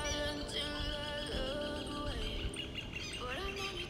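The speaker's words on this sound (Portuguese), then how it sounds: "os pássaros dando o ar da sua graça e do seu canto" Birds chirp and sing outdoors near a sportswear outlet store, with a steady stream of overlapping tweets and warbling calls at moderate distance amid faint background murmur.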